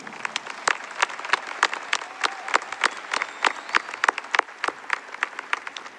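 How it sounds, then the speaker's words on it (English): High school graduates at a Manchester Central graduation ceremony give themselves a round of applause, a scattered crowd of individual claps with distinct sharp hits, moderately loud and steady throughout. "Please give yourselves a round of applause."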